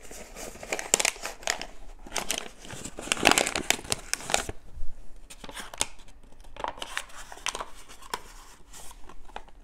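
Paper is crumpled and crinkled by hand up close in an air dry clay craft setting, in irregular bursts of crackling that pause briefly and then resume more softly.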